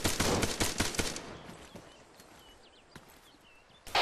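Rapid bursts of rifle fire crack during a Marine platoon training exercise, a dense volley of sharp shots up front giving way to scattered isolated reports, then one more close bang at the end.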